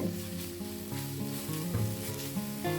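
Keema filling for Arabic fatayer sizzles as it is sautéed in a pan, a steady crackle beneath prominent music with a sustained melody and rhythmic notes.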